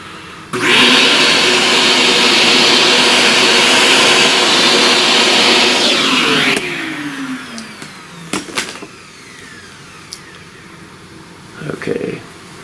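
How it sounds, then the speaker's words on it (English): A vacuum cleaner sucks up loose pastel dust from a drawing, running loud and steady for several seconds before switching off and winding down, followed by a few faint knocks and handling sounds. "vacuum up a lot of this dust."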